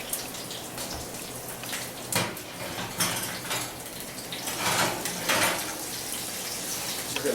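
A T-bone steak pan comes out of a broiler with scattered metallic clanks and scrapes over a steady background hiss, loudest in a few sharp knocks near the middle.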